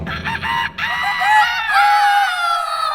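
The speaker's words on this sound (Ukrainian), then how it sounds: "Аж тут і півні проспівали" A rooster crows in a long, loud, drawn-out call filling most of the moment, close and clear with no talk over it.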